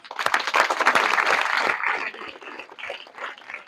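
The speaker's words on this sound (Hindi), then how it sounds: "तालियां।" Audience clapping in a talk hall, a burst of dense claps that thins out into scattered hand strikes after about two seconds.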